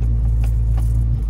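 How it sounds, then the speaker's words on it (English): A Mazda Miata NB engine holds a steady, loud low rumble with a strong droning hum, recorded close with no clear rise in pitch. "give it gas, bring the RPMs up"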